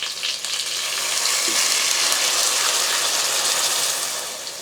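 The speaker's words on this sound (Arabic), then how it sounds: "نضيف عليها مي سخنة هلا" Hot water poured onto chicken browning in oil in a pan sets off a loud, steady hiss and gushing sizzle that swells and then slowly eases, close and with no speech.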